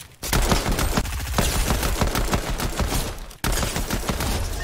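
Pistol fire in Fortnite Chapter 2, a fast, steady rattle of sharp gunshots in two long bursts split by a short gap, loud and close throughout.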